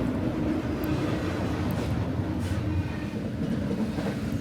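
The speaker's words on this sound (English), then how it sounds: "Later, at 18:58, is M416, northbound manifest train, from Rocky Mount, North Carolina to Cumberland," Northbound manifest freight train M416 rumbles past at close range, led by ES40DC and ES44AH locomotives, a steady loud roll of wheels and cars with faint rhythmic clatter throughout.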